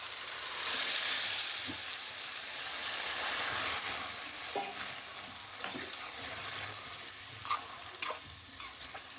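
Premixed ingredients for a green chicken dish sizzle after being added to browned onions in a pan: a soft, continuous frying hiss with a few faint clinks near the end.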